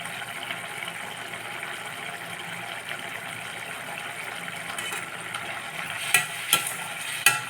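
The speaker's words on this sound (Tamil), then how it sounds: "இப்போ வந்து புளி தண்ணியில் கொஞ்சம் வேக விட்டுருக்கோம்" Bitter gourd simmering in tamarind water in a pot, a soft steady bubbling hiss, close and even, broken near the end by a few sharp clinks of a spoon against the vessel.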